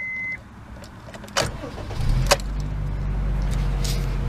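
A 2013 Honda Fit with its 1.5-litre engine cranks briefly with a couple of clicks and catches, then settles into a steady, close idle that runs to the end.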